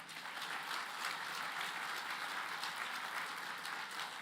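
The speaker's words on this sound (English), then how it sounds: "We give you a round of applause." Applause at a library grand opening ceremony honors the Lambda chapter, a soft, distant, even patter of many hands clapping that holds steady without any talk.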